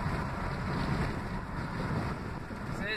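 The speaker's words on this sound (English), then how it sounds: "So it is a little windy today." Wind rushes through the open window of a car moving along a road on a windy day, a constant, close, roaring buffet that fills the microphone.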